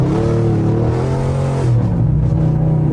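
A straight-piped 800hp Audi RS7 with Quattro accelerates hard on snowy roads. The exhaust drones loud and close, and its pitch rises steadily through a short pull before settling into a deeper rumble.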